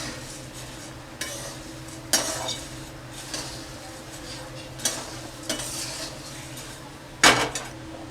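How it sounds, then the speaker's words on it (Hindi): Puffed rice (murmura) being stirred in a pan while cooking, giving a steady dry rustle with several sharper scrapes and clinks of the spoon against the metal at irregular intervals, close and moderately loud. "इसे भी अच्छी तरह से हम घुमा फिरा के मिलाते जाएंगे।"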